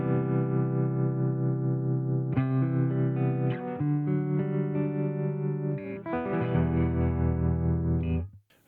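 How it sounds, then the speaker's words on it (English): Electric guitar run through a tremolo patch on an HX One effects pedal, sustained chords pulsing with rhythmic volume wobble, changing chord every couple of seconds and ringing close and clear before cutting off. "right now it's on tremolo"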